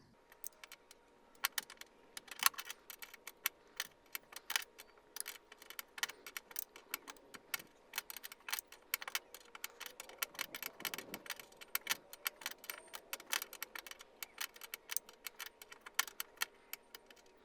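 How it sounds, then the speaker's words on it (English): A short 10mm wrench works a fitting on a Nissan 370Z clutch master cylinder in a cramped engine bay, giving a long run of quick, light metallic clicks and ticks at close range, scattered irregularly with no talking. "I'm grabbing a short 10mm wrench."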